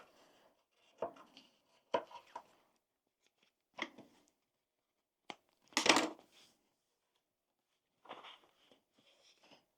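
Scissors snip loose thread ends from a sewn tote bag, making a handful of short, crisp clicks spaced irregularly and separated by quiet pauses.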